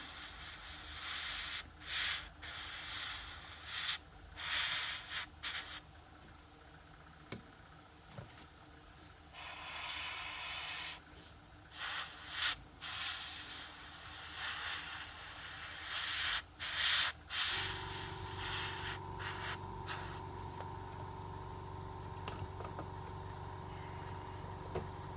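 Airbrush spraying paint onto parts of an Airfix 1/24 Supermarine Spitfire Mk.VIII model kit, in repeated short hissing bursts with a steady compressor hum beneath, close and moderately loud.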